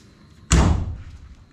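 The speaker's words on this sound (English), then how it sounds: "come open this door and then open that door" A lightweight Volkswagen car door, stripped for weight reduction, is swung shut with one sharp, close slam that rings briefly and fades out.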